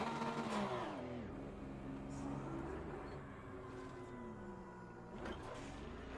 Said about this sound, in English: hopefully you can still hear me over the din of the engine